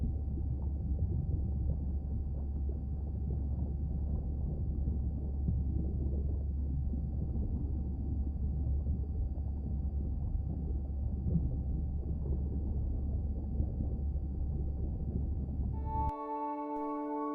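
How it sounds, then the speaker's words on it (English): Whale calls in the underwater game Beyond Blue, a deep continuous rumbling drone with a steady low tone that holds for most of the stretch, then cuts to a brief burst of clicking, layered tones near the end. "I'm ready to play back a coda sound to Andrea"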